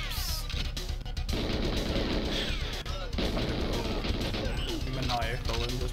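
Gunfire from the Nintendo 64 game GoldenEye rattles in dense, rapid bursts with crashing impacts, loud and continuous, while players talk over it.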